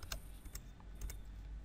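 Typing on a computer keyboard, a few quiet, scattered key taps close by in a quiet room.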